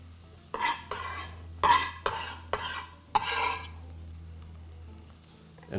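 Chopped chili and parsley tossed in a metal pan off the heat: several sharp scraping, clattering stirs in uneven bursts with a faint sizzle between, close and clear, no talking.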